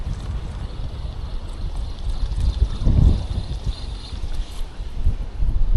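Strong coastal wind gusts at a Portsmouth sea shore, a constant low roar with microphone buffeting that swells loudest midway, with water sounds mixed in and no talk.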